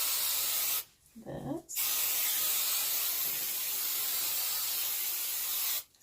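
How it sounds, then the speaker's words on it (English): Hairspray sprayed onto freshly styled hair curls, a long steady aerosol hiss close by, broken briefly by a pause and a quiet spoken word before the spray resumes. "I'm just going to hairspray"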